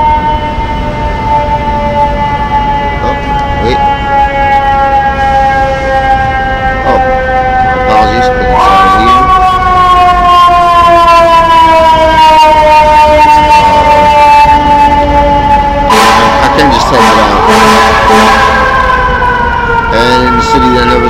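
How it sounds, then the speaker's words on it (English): Emergency vehicle sirens wail outdoors for the whole stretch, several overlapping tones sliding up and down at steady loudness, with a fresh siren swelling in partway through. "you hear a lot of sirens."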